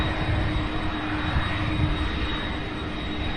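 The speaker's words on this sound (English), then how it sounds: "so we had a 747 Queen" Boeing 747 jet roaring steadily at SDF airport in Louisville, Kentucky, a loud, continuous broadband engine rumble holding constant throughout with no talk.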